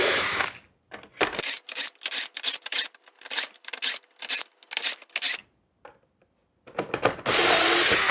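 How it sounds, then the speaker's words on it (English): A 5mm bit drills a series of holes into wood through a clamped drill guide, close up, in repeated short bursts of the power drill whirring on and off with brief pauses between, then a longer run at the end. "now we take the very precise 5mm drill and start drilling holes"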